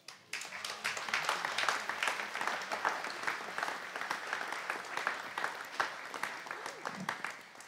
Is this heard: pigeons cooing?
no